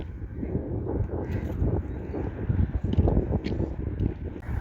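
Steady low wind rumble buffeting the microphone in a Dutch village on a sunny spring day, a broad continuous roar with gusty swells, no voices.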